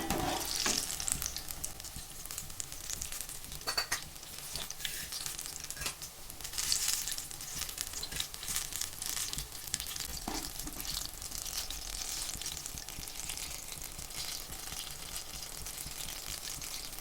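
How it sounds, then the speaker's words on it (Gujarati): Maggi noodle bhajiya deep frying in hot oil, a steady loud sizzle and crackle throughout with occasional sharper pops and spatters, close and continuous without any talk. "બ્રાઉન કલરના થઈ જાય ત્યાં સુધી આપણે તળાવા દઈશું."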